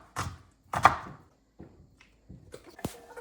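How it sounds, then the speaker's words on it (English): Half an onion is being finely chopped with a knife, making a handful of quiet, separate thunks with short pauses between them and no talking. "Then we're going to finely chop half an onion."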